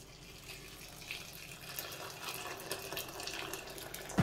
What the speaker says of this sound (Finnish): Ja vettä päälle.